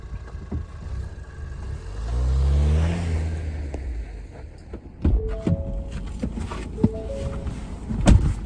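A Ford Bronco Sport pulling away, its engine swelling into a rev that peaks midway and then settles, followed by a few clicks and thumps from inside the cabin, close and fairly loud.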